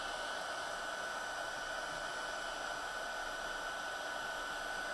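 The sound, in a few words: heat gun heat-setting a card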